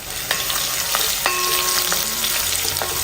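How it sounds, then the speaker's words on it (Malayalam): Crushed ginger and shallots fry in hot oil, making a dense, loud sizzle broken by scraping stirring strokes in the pan. "ഇനി ഒരു 10 ചെറിയ ഉള്ളി ചതച്ചതും കൂടി ചേർത്ത് കൊടുക്കാം."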